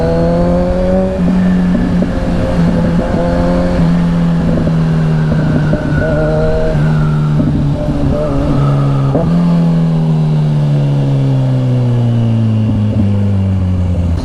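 A Kawasaki Ninja 1000SX motorcycle fitted with a loud aftermarket exhaust pipe, its engine droning steadily and rising then falling in pitch, close and loud throughout with no talking.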